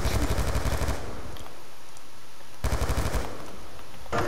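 Rapid automatic gunfire from the video game Black Ops 2 rattles in two loud bursts separated by a quieter gap, with a final burst starting at the end.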